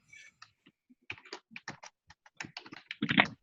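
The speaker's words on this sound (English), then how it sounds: "It sounds like someone's typing, so I'll wait and see." Fingers tap on a computer keyboard during an online business webinar, a quiet, irregular patter of clicks and keystrokes over a few seconds with no talking.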